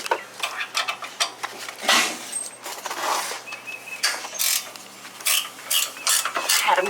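A ratchet wrench works bolts loose on a truck's air bag suspension in a shop, its dense metallic clicking running in repeated bursts close by, with brief pauses between pulls.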